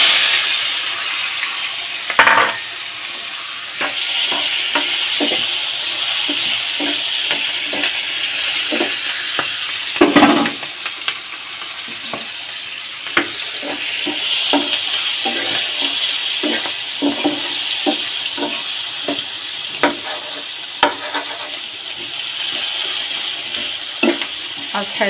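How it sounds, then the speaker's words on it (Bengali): Onions frying in a pan, sizzling steadily with frequent clinks and scrapes of a utensil stirring them, loud and close, with no talking. "এই যে এখন পেঁয়াজ দিয়ে দেব।"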